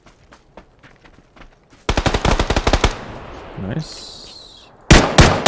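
Automatic weapon fire in the video game PUBG: scattered single shots, then a loud rapid burst of about a dozen rounds, a short pause, and another sharp burst at the end, with a brief spoken word between.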